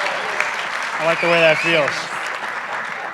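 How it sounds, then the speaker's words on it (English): An audience at a conference event keeps up continuous applause for the host duo, a steady clapping wash beneath a voice speaking briefly in the middle. "How about one more round of applause for me and Kelly?"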